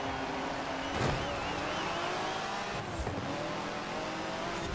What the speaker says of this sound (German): Generell so alte Rennwagen, egal was man mit da drin ist, die klingen alle eigentlich ziemlich cool. Auch richtig so brachial. Richtiger Motorsound.